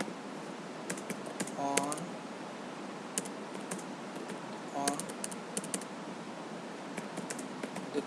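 Keys clatter on a computer keyboard in scattered bursts, typing a key-value entry, while someone talks steadily over the tapping throughout.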